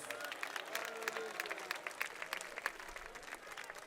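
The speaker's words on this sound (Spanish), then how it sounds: "Dele fuertes palmas a Dios" A church congregation claps together in loud, sustained applause during a worship service, dense and continuous with sharper peaks throughout, crowd voices mixed faintly underneath.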